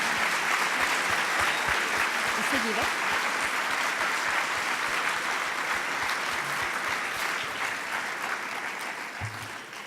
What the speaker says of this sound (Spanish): Un aplauso, uno más.